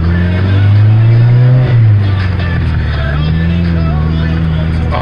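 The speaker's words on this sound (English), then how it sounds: "You know, cold revs, because why not?" A car engine revs while still cold, a rising and falling roar over a steady close idle, loud throughout with no talk.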